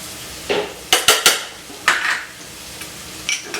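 Potatoes O'Brien sautéing in a pan, heard as a handful of sharp clanks and scrapes of a utensil against the pan in quick bursts over a faint background sizzle, with no talk.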